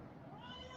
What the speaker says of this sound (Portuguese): Eu tenho uma gatinha carente miando com fome.